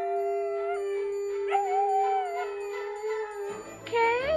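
A Husky dog howls in one long sustained wavering tone that bends upward, then breaks into a higher yipping howl at the end, close and clear.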